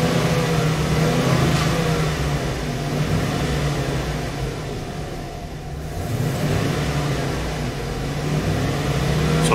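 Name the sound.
van engine revving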